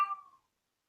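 A single short cat meow by a door, fairly close and clear, lasting under half a second and then falling silent.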